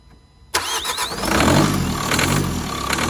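A 2014 Vauxhall Vivaro van with a 1.6 CDTI diesel engine, in spares-or-repair condition, cranks briefly and then fires into a loud, steady running idle that holds close by with no talk.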